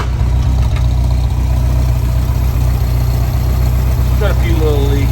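A 1964 Volkswagen Beetle engine idles with a steady, even low-pitched chug close by, while someone talks over it.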